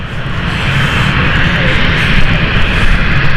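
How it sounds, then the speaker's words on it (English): An Embraer 190 SR jet airliner on the London City flight to Belfast roars loud and close, a continuous broad engine rush that holds steady throughout with no talk. "Embraer 190 SR this one."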